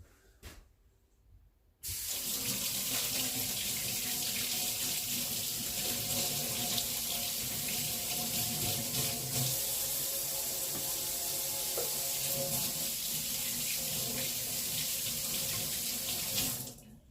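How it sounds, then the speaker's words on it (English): Water from a tap runs steadily into a sink while hands are washed under it, a loud continuous rush that starts after a brief quiet moment and stops near the end. "Let me wash my hands."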